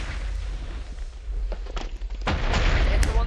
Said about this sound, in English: It's explosions.